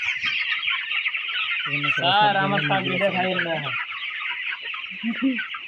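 Broiler chickens at a poultry market cluck and squawk close by over a constant high chirping background, with one longer, drawn-out call in the middle.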